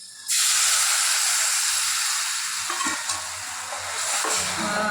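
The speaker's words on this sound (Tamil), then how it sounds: "அந்த புளி கரைசலை வந்து இதில் வந்து எடுத்து வந்து ஊற்ற போகிறேன்." Tamarind solution poured into a pan of bitter gourd tamarind gravy sets off a loud, steady hiss and sizzle that holds for several seconds, with faint low stirring sounds beneath.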